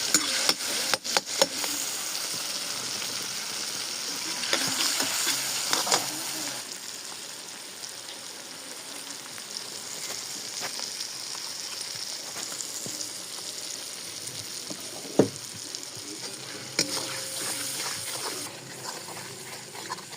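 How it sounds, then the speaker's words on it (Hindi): Tomatoes sizzle while being roasted in a pan for a dhaba-style onion-ball and chana dal curry, a steady close hiss with occasional clanks and knocks from a utensil. "ये हमारे टमाटर भून रहे हैं माशाल्लाह। सही तरीके से भुनाई कर देंगे।"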